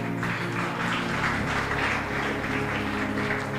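A church congregation applauds in a steady, dense wash of clapping that holds at an even level over a low background hum.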